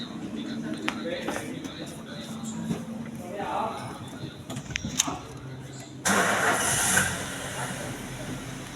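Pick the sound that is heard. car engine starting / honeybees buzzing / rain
car engine starting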